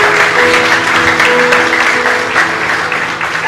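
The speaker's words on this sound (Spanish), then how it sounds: "Denle un aplauso." A church congregation applauds steadily and loudly throughout, a dense unbroken wash of clapping with faint musical tones sustained underneath.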